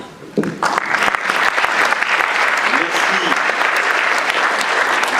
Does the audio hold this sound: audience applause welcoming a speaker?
yes